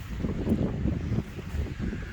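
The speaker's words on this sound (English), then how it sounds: "It's really windy, so I hope you can hear me." Strong gusting wind buffets an outdoor microphone on a sunny day beside a mountain bike enduro trail, a steady low roar and rumble with small surges throughout, no voice heard.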